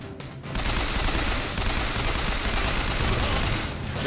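Heavy gunfire with strong recoil from a weapon in the video game Bioshock Infinite, a loud, sustained burst of rapid shots after a brief quiet start, with no talk.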